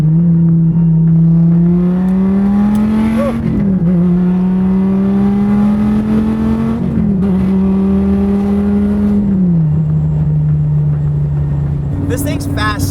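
A Dodge Viper engine fitted with long tube headers and exhaust howls loudly as it revs, its pitch climbing in steady pulls and dropping between shifts, close and strong throughout.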